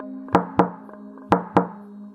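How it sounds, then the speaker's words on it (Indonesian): Knocking on a house door at midnight: four sharp, close raps in two quick pairs, alone against a faint low hum. "Tengah malam begini ketok-ketok rumah kita"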